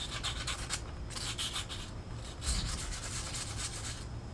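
Someone scrubs rust off a 2014 Honda Pilot wheel hub, making quiet, close, repeated scratchy strokes in an uneven back-and-forth rhythm.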